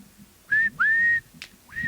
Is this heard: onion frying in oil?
no